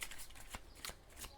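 Tarot cards are shuffled by hand in quick, crisp riffling bursts, several distinct papery flicks in a row, close and fairly quiet.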